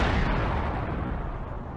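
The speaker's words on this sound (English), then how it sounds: "Suddenly, there was a loud explosion." A loud explosion sound effect in an audio story lands as a heavy, rumbling blast with deep low-end roar that sustains and slowly decays, with no voices over it.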